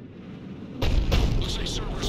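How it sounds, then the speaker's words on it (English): A cannon firing in the Mass Effect 3 video game: quiet at first, then a loud booming blast with rumbling bursts and sharp follow-up cracks that carry on to the end. "Looks like Cerberus got that cannon operational, Commander"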